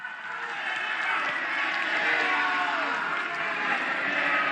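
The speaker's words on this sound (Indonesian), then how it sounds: "Bapak Ibu, kita berikan tepuk tangan kepada dua pasangan calon." Audience in a hall applauding the two candidate pairs at a public debate for governor and vice governor of South Sulawesi, a continuous wash of crowd clapping with a hum of voices underneath.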